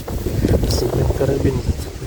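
Gusty wind with rain buffets a microphone outdoors while fishing, a low rumbling roar that rises and falls steadily, with a few faint knocks.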